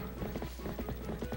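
Horse hooves in The Legend of Zelda: Twilight Princess clop in a steady galloping rhythm, close and fairly loud over a low rumbling game background, with no talk.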